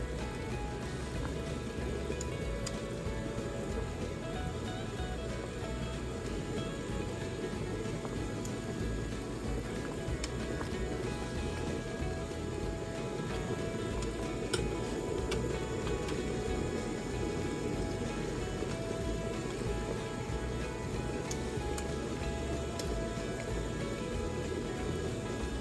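Honeysuckle jelly bubbles hard at a rolling boil in a pot, a dense, steady crackling and popping that fills the whole stretch without pause, close by and alone with no talking.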